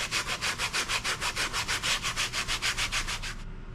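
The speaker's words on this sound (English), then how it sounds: "come back with the sanding block and then just sand it till it's as smooth as you can get it" Sanding block worked back and forth over a shallow foam bevel on an electric ducted fan model aircraft build, a steady, close run of about two dozen rhythmic scraping strokes, ending in near silence.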